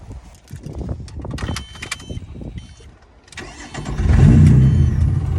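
A straight-piped Lotus Evora, warm from driving, cranks and fires, then revs up toward 5,000 RPM with a loud, deep, rising exhaust roar that holds near the end.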